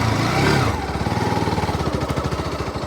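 A motorcycle is kicked or cranked, then its engine catches and settles into a steady, close, rhythmic putter that carries on to the end.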